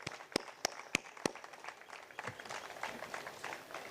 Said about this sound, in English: So please give him a good hand,